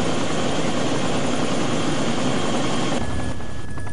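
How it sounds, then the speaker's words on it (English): Helicopter rotor and engine drone steady and loud near army barracks, a continuous thrumming roar that thins out toward the end, with no talk over it. "chopper down there."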